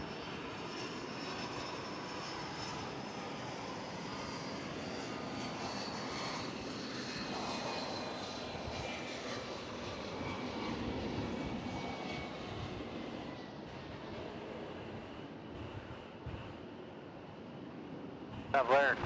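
A UPS cargo plane, flight 153, roars on the runway at DFW Airport at night, a sustained distant engine rumble that swells and fades with faint voices at times.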